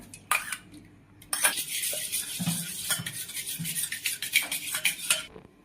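Yogurt is added to a bowl while making paneer rolls at home: spoon and bowl clink and scrape, with rapid metallic tapping and stirring, fairly close and loud, and no talking.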